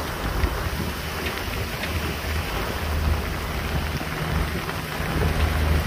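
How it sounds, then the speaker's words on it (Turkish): Heavy downpour drums steadily on a sailboat at sea in rough, wavy conditions, a dense continuous hiss of rain with a low rumble underneath, loud and unbroken throughout. "Yağmur şiddetini arttırdıkça arttırıyor."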